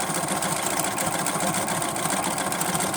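A sewing machine top stitches a quilt block with wadding, running steadily at an even, rapid mechanical pace, close and fairly loud, with no voices.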